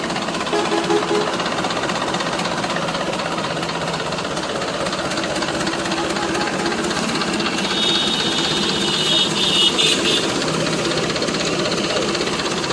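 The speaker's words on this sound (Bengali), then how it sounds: "একটু জোরে ধর অ্যাক্সেলটা ধর" An Eicher 1080 diesel truck engine runs loud and steady, its rough knocking drone swelling slightly as the accelerator is pressed toward the end.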